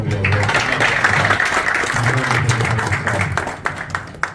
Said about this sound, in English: just give her a round of applause for sure